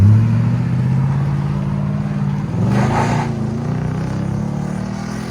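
A 2018 Nissan Titan Pro-4X with a 5.6L V8 and a Borla Pro XS exhaust rumbles loudly and up close with a deep, steady idle. A brief rev swells near the middle before the engine settles back, and no one speaks.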